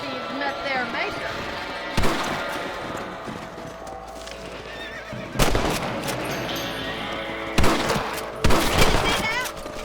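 Rifle gunshots in the video game Red Dead Redemption, a few sharp loud shots spaced seconds apart over game music, horse sounds and a voice talking.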